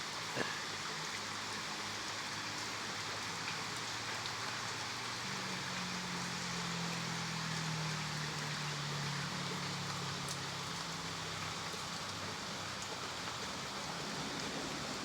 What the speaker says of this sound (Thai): ตอนนี้ฝนตกจัง